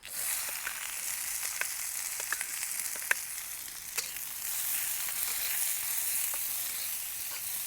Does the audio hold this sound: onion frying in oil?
yes